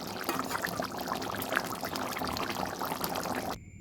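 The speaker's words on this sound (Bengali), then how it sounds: "কাতলা মাছের ঝোল এবার নামিয়ে পরিবেশন করে আপনাদের দেখাচ্ছি" Katla fish curry poured out to serve, a continuous splashing, liquid pour lasting a few seconds that stops abruptly, close and fairly loud.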